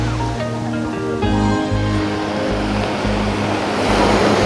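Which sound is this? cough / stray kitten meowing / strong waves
strong waves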